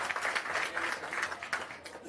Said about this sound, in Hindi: एक बार जोरदार ताली आप अपने इस प्रयास के लिए लगा लीजिए।